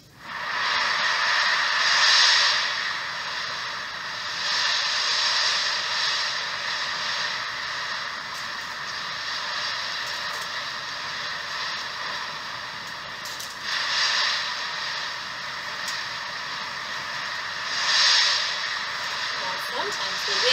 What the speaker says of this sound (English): I'm going to turn on our wind music.